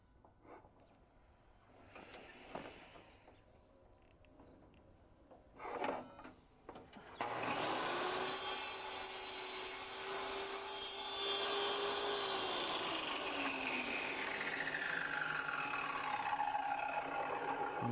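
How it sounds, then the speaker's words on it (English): A table saw spins up and then cuts through wood with a loud, sustained whine that bends downward as the blade bites, preceded by quieter rubbing and filing scrapes. "I have a table saw."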